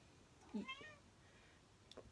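A cat gives a short meow nearby, followed by a faint, brief second mew; otherwise quiet.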